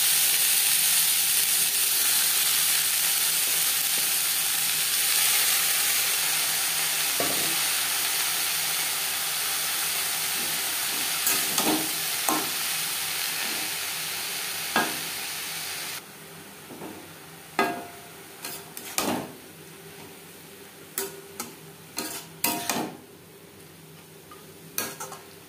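Spinach hits oil left from frying lentil dumplings with a bright, steady sizzle, then quiets as it wilts, with scattered clinks and scrapes of a spoon stirring against the pan.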